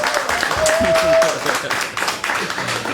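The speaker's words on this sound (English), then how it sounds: "Please stand up to give a round of applause." A gathered crowd gives a round of applause, clapping spread through the room with voices and a brief whistle or cheer rising over it.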